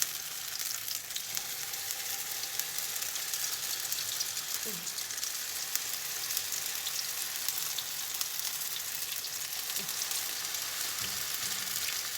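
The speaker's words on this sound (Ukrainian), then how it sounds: "І починаємо смажити драники." Steady oil sizzling and crackling close up, a continuous hiss of potato pancakes frying in a pan with no talking.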